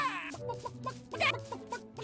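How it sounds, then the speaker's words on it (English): A chicken in a PSVR2 virtual reality video game clucks in a quick run of short, bright clucks, fairly quiet and close, with no talking over it. "just a chicken that came across?"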